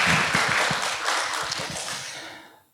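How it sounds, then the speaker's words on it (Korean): A church congregation breaking into applause during a worship service, a dense wash of many people clapping that starts loud and gradually fades out over a few seconds. "우리 그 주님께 감사와 영광의 박수 한번 해드리겠습니다"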